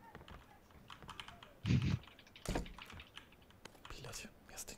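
Computer keyboard typing clicks away during a PUBG match, fast uneven keystrokes close to the microphone with a louder burst of clatter midway, while people talk quietly in the background.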